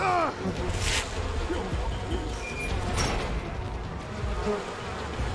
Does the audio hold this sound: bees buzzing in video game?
yes